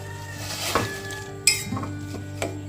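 A spoon stirs tea leaves, neem leaves and raw turmeric into half a litre of water in a metal pot, with a few sharp clinks against the side over a soft, steady background hum.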